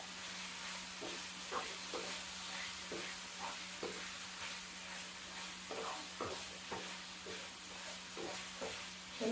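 Food fries in hot oil in a home kitchen, a faint, steady sizzle broken by regular light clicks of stirring, with no voices.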